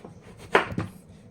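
Carrots being chopped on a cutting board in a home kitchen for a low-carb meal: two quick, close knife strikes about a quarter second apart, with no talking.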